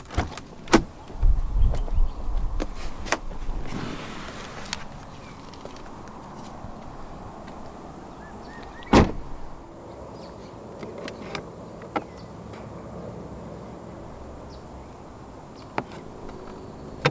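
The powered boot lid on a 2020 Volkswagen Passat 2.0 TSI runs with a steady, faint electric motor hum, broken by a few sharp clicks and one firm latch thunk near the middle, with no talk.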